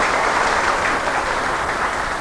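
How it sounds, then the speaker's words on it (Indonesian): Applause from an audience at an Indonesian government handover ceremony for transmigration settlements, a dense, steady burst of clapping lasting a couple of seconds. "Tepuk tangan."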